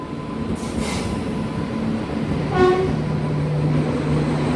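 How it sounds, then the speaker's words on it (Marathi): A train arrives at a station, rumbling steadily nearby, with a brief horn-like toot and a faint metallic squeal over the continuous rolling noise. "आमची आता ट्रेन आलेली आहे"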